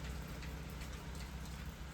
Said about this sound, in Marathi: पावसानं आता गोंधळ घातला